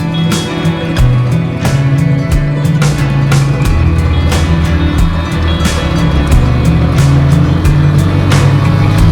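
A motorbike rides along a rough, flood-damaged mountain road, its engine droning loudly and steadily up close, with sharp repeated knocks and rattles from the bumpy surface.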